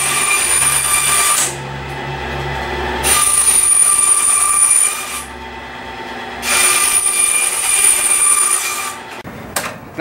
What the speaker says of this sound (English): That's why we have a bandsaw.